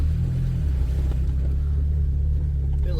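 A 2001 Jeep TJ drives in four-wheel drive, low range, third gear, giving a loud, steady, low engine rumble that continues throughout with no talking.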